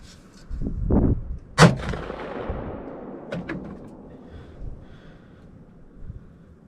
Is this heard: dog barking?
no